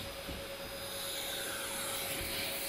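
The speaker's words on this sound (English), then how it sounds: "The first step in this process is the vacuuming." A vacuum cleaner runs steadily while cleaning a car interior, a loud, constant whine with a high pitched tone and faint rubbing noises underneath.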